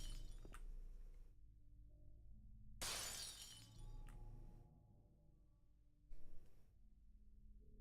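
Glass shattering in Silent Hill 2, a loud sudden crash of breaking glass with tinkling fragments, followed later by a second smaller burst, over a quiet low ambient drone.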